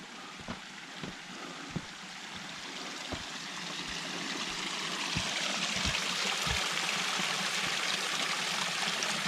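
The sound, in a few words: mountain creek flowing, Mt Rainier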